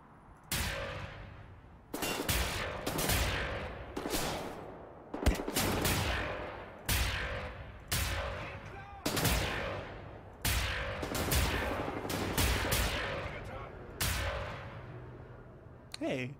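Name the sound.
gun firing in Wolfenstein: The New Order video game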